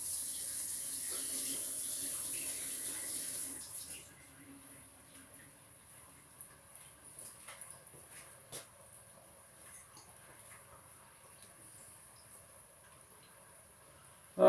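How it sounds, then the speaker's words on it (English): Running tap water pours steadily for a few seconds while a hand is rinsed under it in a kitchen during cooking, then the flow stops, leaving faint clinks and low room noise. "Let me rinse my hand off."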